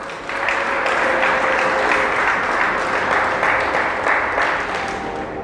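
A church congregation applauding for the Lord: dense, sustained clapping from many hands, loud and continuous, fading slightly at the end.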